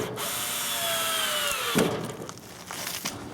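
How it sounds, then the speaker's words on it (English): A power drill drives a screw through OSB into a 2x4 as the motor whines with rising pitch, then a sharp knock as the screw seats, followed by quieter handling clatter. "we'll run that screw in, and we'll put a couple more in the middle"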